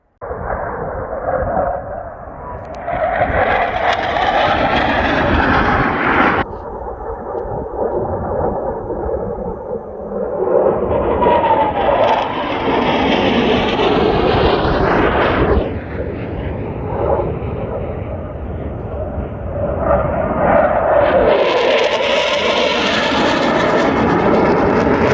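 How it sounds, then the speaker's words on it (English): Two low-flying F-16 fighter jets roaring overhead near Helm Crag, a loud sustained jet roar that swells, shifts and surges again as each aircraft passes, dominating the whole scene with no talk. "so we've got two F-16s there"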